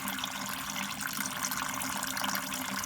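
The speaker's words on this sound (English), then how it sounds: "All right, ladies and gentlemen, we are draining the coolant." Coolant drains from a 1998 Mustang GT during an engine-swap repair, a steady hissing, splashing flow of liquid that runs continuously and evenly at close range, with no voices.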